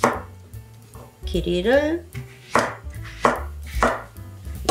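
A knife chops the ends off cucumbers on a board, several sharp knocks spaced about half a second apart, with a voice speaking in between.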